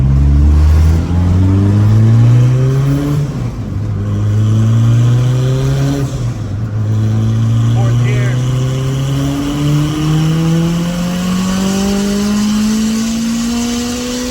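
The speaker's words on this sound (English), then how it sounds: "We're gonna do a 4th gear pull because we're starting to run out of runway." A turbocharged Honda F20b running a GTX3582R turbo pulls hard in fourth gear, its engine note climbing steadily and loud from up close for the whole run, with a brief dip in pitch partway through.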